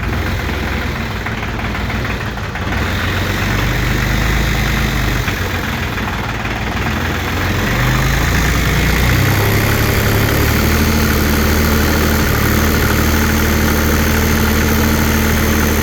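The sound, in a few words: diesel engine at full throttle, not revving up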